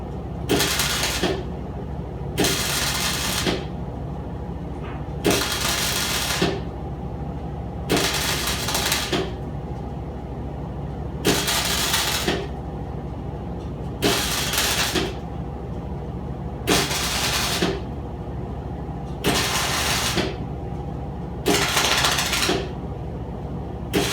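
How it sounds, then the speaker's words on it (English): Tack welding on the front panel of a 1971 Chevelle, heard as a series of about ten short buzzing bursts, each a second or two long, spaced by brief pauses, loud and close. "And you'll notice I'm tacking welding this, okay?"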